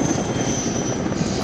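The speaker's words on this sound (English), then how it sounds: "Wait for the helicopter to bugger off." A helicopter in a military air-assault video game drones steadily overhead, a loud continuous engine roar with a thin high whine on top, unbroken and without talk.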